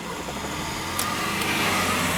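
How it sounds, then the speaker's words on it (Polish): A car's engine running in a learner's driving lesson, a steady low rumble and hum that stays even throughout, close by, with no talking. "zapal silnik."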